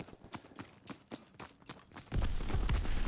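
Heavy gunfire fills a Call of Duty WW2 street battle, rapid shots cracking under distant shouts before a dense, loud barrage of sustained fire takes over in the final second.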